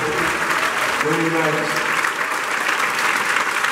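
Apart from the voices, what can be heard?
audience applause for the group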